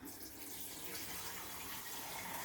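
Clean tap water pouring into the 5-liter tank of a Breville Smart Mist humidifier, a steady hissing, splashing gush that runs continuously and fairly quietly without pause.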